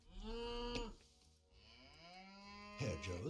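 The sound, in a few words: cow mooing in a strategy video game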